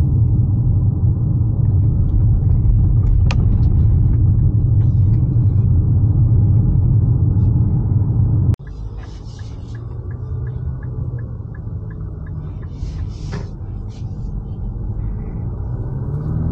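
A 2023 Infiniti QX50 Sport AWD driving on the road, heard from inside as a steady, loud low rumble of engine and road noise that drops to a quieter, smoother cruise halfway through.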